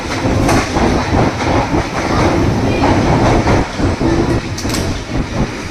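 A London Underground Piccadilly line train runs through a station close by, with a steady loud rumble, rhythmic wheel clatter and rail squeal across the whole stretch.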